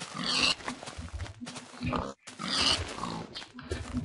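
Pigs in Minecraft give a few blocky, repeated oinks and grunts at close range, mixed with other game noises and no talking.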